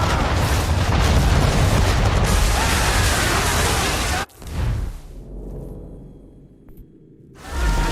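A ship's cannon broadside thunders in Assassin's Creed 3 naval combat, a long roaring wall of heavy booms that cuts off abruptly into a low rumble and faint wind, then a further swell rises.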